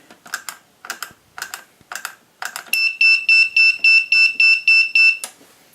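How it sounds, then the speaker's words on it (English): An escape room prop's buzzer sounds after an incorrect button combination: five short keypad beeps, then a rapid series of loud pulsing electronic beeps for under three seconds, ending abruptly. "you'll hear the buzzer beep in parallel"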